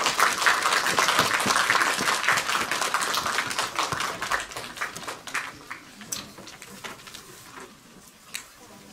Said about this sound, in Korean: 여러분 큰 감사의 박수 부탁드립니다